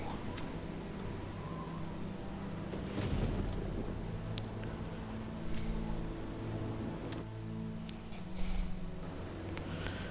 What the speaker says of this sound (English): And the storm's not clearing, is it?